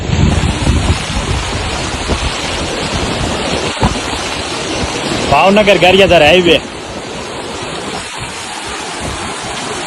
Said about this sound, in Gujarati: ભાવનગરમાં વરસાદ પડ્યો